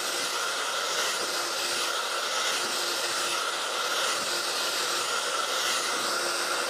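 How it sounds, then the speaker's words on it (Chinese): A hair dryer blows side-parted bangs, making a continuous close, even whooshing hiss of airflow that holds steady throughout with no talk over it. "先进行吹干，然后偏分的刘海呢，你要把它前面吹翘起来啊。"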